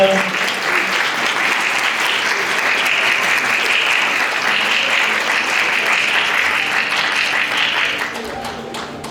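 Wedding guests at a Seoul Garden Hotel ceremony applaud in a steady, dense wash of clapping that holds for about eight seconds before tapering off, with faint voices underneath.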